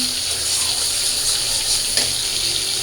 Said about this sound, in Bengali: আমি জল দিয়ে দিই